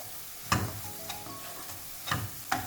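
Fried onion, garlic, turmeric and chili powder are stirred in a pan. A few close scraping strokes of a spoon against metal sound over a steady low sizzle.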